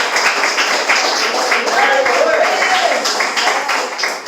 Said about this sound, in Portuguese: E as palmas que exaltam o Senhor.